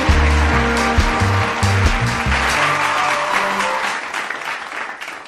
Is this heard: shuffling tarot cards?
no